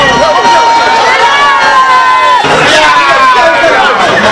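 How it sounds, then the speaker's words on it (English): Crowd of political supporters cheering wildly at a rally arrival, a loud, continuous roar of shouting and whooping voices with a sharp surge midway. "The crowd went wild when Nana Akufo-Addo arrived."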